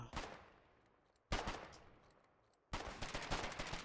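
Gunfire in the war game Foxhole: three sharp, loud shots spaced over about four seconds, each followed by a long decaying echo tail, with no talking.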